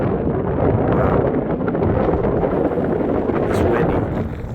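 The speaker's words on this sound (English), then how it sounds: "It's windy." Strong wind buffets the microphone at the Point of the Mountain paragliding site, a loud, continuous low roar that swells and eases slightly without pause, with no voices.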